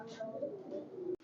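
Soft, low cooing from highflyer pigeons, a red-necked running pair imported from Dubai, heard close and quiet with a gentle rolling rhythm, ending in a brief cut.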